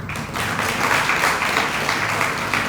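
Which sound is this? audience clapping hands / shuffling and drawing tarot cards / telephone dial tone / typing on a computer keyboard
audience clapping hands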